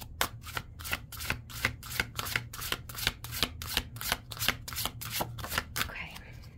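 A tarot card deck being shuffled by hand, heard as a steady run of crisp, close riffling bursts repeating roughly every third of a second, with no voices.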